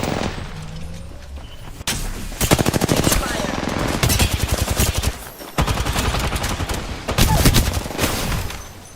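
Rapid automatic gunfire from the Apex Legends video game fires in long, loud bursts with short pauses between them, close and dominant, with a voice faintly heard in the mix.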